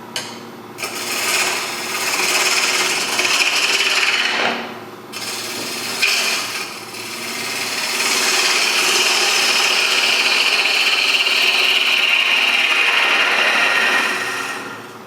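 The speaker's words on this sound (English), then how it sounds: "If you're not comfortable using a gouge for that cut, you can just use a parting tool and go straight in" A gouge cuts a wooden sphere spinning on a wood lathe, producing a close, rough scraping hum that breaks off briefly twice, then runs steadily for several seconds before fading, with no voices.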